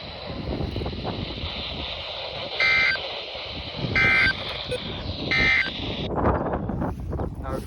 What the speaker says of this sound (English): This concludes the test of the NOAA All Hazards Weather Radio Warning Alarm device.